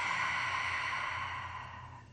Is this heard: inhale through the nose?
yes